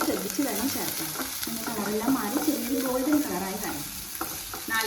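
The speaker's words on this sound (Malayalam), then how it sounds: "ചേർത്ത് നന്നായിട്ട് വഴറ്റി കൊടുക്കുക" Sliced onion sautés in a pan for chicken macaroni, giving a steady, moderately loud sizzle with frying crackle and the occasional scrape of stirring throughout.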